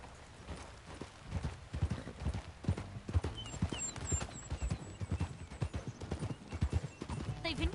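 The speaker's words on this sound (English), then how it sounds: "Okay, get on your horse." Horses gallop in Red Dead Redemption 2, steady close clip-clop hoofbeats pounding throughout with a brief whinny, while voices talk over the riding.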